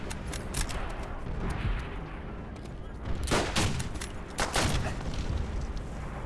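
Gunfire in a first-person shooter game, including shotgun blasts among scattered sharp shots and bursts, loud and close, with a few heavier booms around the middle.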